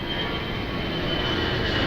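An airplane landing on runway 02 at Lisbon Airport, its engines a steady, broad roar heard from a distance, holding constant without a break.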